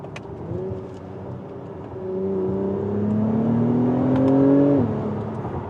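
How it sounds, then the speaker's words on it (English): A 2024 Acura TLX Type S with a turbocharged engine and 10-speed automatic revs under wide-open throttle, its pitch climbing steadily for several seconds before a sharp drop at the gear shift, loud and close with no talking. "It also makes a nice pop on wide open throttles when you switch gears"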